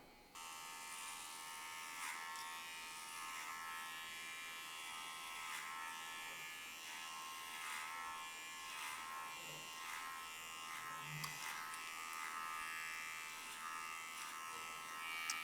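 An electric hair clipper fitted with a number 2 guard buzzes steadily and close throughout an undercut haircut, a constant motor whine with slight changes in tone as it moves through the hair, and no speech.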